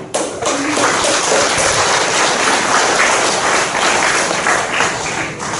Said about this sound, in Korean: 우리 다 같이 큰 소리로 박수 쳐서 격려를 드리겠습니다.